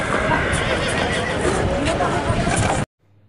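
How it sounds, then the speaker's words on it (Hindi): Horse at the Jagraon horse market, with whinnies and busy crowd noise throughout, and people talking over it before the sound cuts off abruptly. "ये टार्जन घोड़ा भी लगता है बहुत चंगा स्टैलियन बनेगा"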